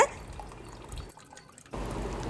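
Warm whey trickles and drips out of curdled milk solids held in a cloth while making rasmalai, a soft close dribbling that pauses briefly midway and then resumes.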